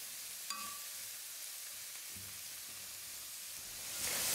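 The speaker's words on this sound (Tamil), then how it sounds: "சேர்த்துருக்கிற காய்கறிகளை கொஞ்சம் நேரம் நம்ம குக் பண்ணிக்கலாம்" Vegetables sauté in a pan for street-style egg rice, producing a faint, even hiss of frying. A single clink sounds early on, and the sizzle swells louder near the end, with no talking.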